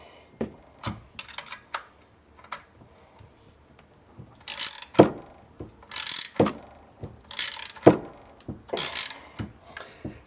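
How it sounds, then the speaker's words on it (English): A 21 mm (5/8) ratcheting wrench works loose a power steering pump pulley fitted since 1989, producing repeated sharp ratchet clicks and metallic clacks in uneven bursts, close and fairly loud, with no talk. "5/8 ratcheting wrench here. Not easy, but it's going."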